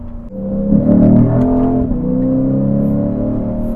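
A Lexus IS 500 F-Sport Performance with a mid-pipe exhaust pulls under load, its engine holding a loud, steady, throaty drone from inside the car. The pitch rises slightly as it accelerates. No voices are heard.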